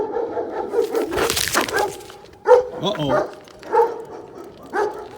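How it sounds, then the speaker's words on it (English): Dogs bark at a sheriff's department in Charleston, Missouri, with a few loud, scattered barks rising over an outdoor scene while someone talks nearby. "I think they trying to send the dogs out at me."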